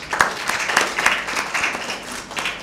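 An audience at a Lent season Bible quiz applauds a team's correct answer, a fairly loud, continuous patter of many hands clapping with a few sharper claps standing out, rising and easing over a few seconds.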